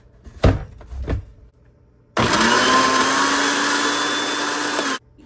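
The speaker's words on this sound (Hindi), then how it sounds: "लहसुन मैंने जग में डालकर ब्लेंड कर लिया था, चॉप कर लिया था" Electric blender jug chopping garlic: a loud, steady whirring drone that starts abruptly after a few knocks and runs for about three seconds before cutting off.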